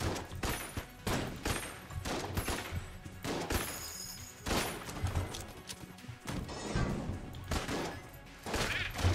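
Rapid bursts of video game gunfire and impact crashes in Enter the Gungeon as the player gets hit, dense, loud and repeating in clusters throughout.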